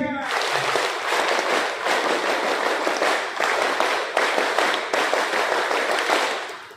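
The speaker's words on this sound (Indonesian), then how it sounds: "Dua kali tepuk pramuka" An audience performing the Indonesian scout clap (tepuk pramuka) at a scout council gathering in Bogor: dense, loud, rhythmic group clapping in repeated bursts filling the room.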